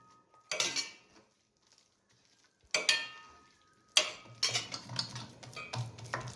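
A spoon stirs besan mixed with turmeric and salt in a metal vessel, with close, clattering metallic scrapes and knocks in short separate bursts and quiet gaps between them, busier and denser toward the end.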